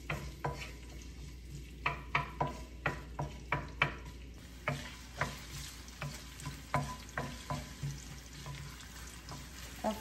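Chopped ginger frying in a pan, a soft steady sizzle broken by a regular series of scraping stirs, each stroke a quick clatter of utensil against the pan, close and fairly quiet.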